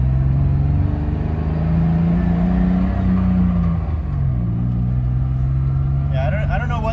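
A BMW M52 big-cam engine idles loud and close with an uneven, wavering rumble whose pitch drifts up and dips irregularly, and a voice briefly speaks near the end.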